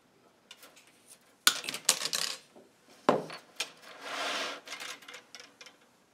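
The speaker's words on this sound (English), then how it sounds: "Here we have 14 gauge wire, and we're going to want to cut a piece of this." Sharp snipping and clicking as 14 gauge wire is cut for a shadow puppet controller, several crisp metallic snaps close by with brief rattles between, no talking.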